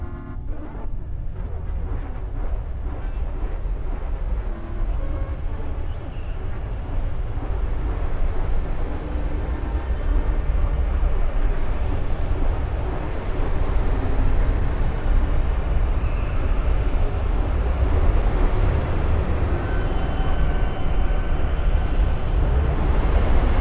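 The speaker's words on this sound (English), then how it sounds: "Now you can just turn on your motor and watch the magic happen." A motor runs inside the People Playground video game, a dense, steady mechanical drone with broad rumbling noise that holds loud and unbroken for the whole stretch, building slightly partway through.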